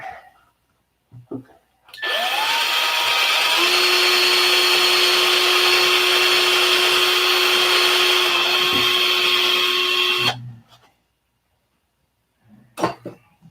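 A Dremel rotary tool runs steadily for about eight seconds on a model airplane wing during a building session, a loud, close, high whine with a faint rise in pitch as it spins up. It then cuts off into quiet, with a couple of small knocks after.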